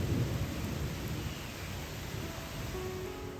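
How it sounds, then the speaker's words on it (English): Heavy rain pours down during a thunderstorm with lightning strikes nearby, a dense steady hiss with a low rumble of thunder early on, fading slightly as it continues. "A heavy downpour, thunder and lightning."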